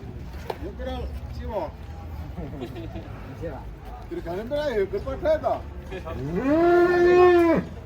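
A crowd chatters in the background, then a large contest cow being unloaded from a truck in Boyolali lets out a long, loud moo close by near the end.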